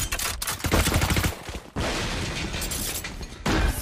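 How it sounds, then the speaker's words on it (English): Rapid crackling bursts and popping from a Swarm grenade ability in Valorant fill a competitive match moment, loud and dense with short cut-off gaps between flurries. "Swarm grenade out."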